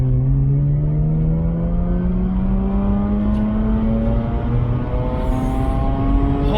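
A Mazda RX-8 rotary engine pulls hard in second gear, its pitch climbing steadily toward the high-rev limit in one continuous rising wail heard from inside the car.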